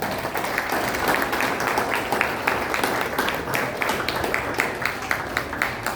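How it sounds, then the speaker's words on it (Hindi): Audience applause at a Junior Arya Samaj children's programme in Bangalore, a steady wash of many hands clapping for about six seconds at moderate level, with faint voices mixed in. "वेद और संस्कृति के लिए फिर से जोरदार तालियां।"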